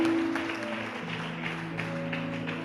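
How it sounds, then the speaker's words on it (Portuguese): A church congregation applauds throughout, a steady broadband patter of clapping mixed with sustained music tones underneath, moderately loud and continuous. "Aplauda o Senhor, igreja, em nome de Jesus."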